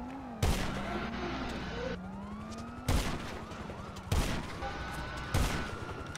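Gunfire in GTA Online rings out as four loud, sharp shots spaced about 1.5 seconds apart, each one cracking over a steady bed of game noise, with a siren-like tone wailing underneath.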